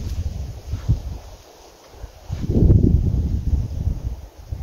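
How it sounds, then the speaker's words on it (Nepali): Wind gusts at a deserted hilltop temple, buffeting the microphone in low rumbling surges that swell strongly near the end, loud and close, with no voices. "क्या हावा चले दामी"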